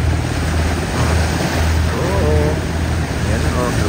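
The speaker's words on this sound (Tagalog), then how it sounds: "Lumalakas ng mahampas ng alon kasi may barko" Waves slap against the shore of San Diego Bay near the airport, churned up by a passing cruise ship's wake, with steady broadband wash and wind under a low boat-engine rumble, while a voice talks briefly.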